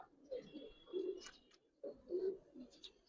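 Male and female giribaj pigeons coo nearby in two soft, throaty, rolling phrases, separated by a brief pause.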